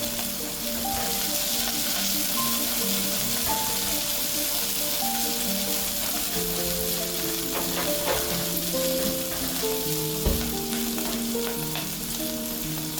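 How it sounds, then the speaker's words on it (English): Green beans stir-frying in vegetable oil in a pot give off a loud, continuous crackling sizzle, with a faint scrape of stirring near the end and a low tonal melody running faintly underneath. "Toss in your green beans and stir fry for about a minute."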